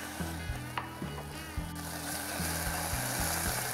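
Chopped garlic and leek sizzle steadily in a hot pan for a sauté, with a bright frying hiss and the repeated knocks and scrapes of a utensil stirring against the pan.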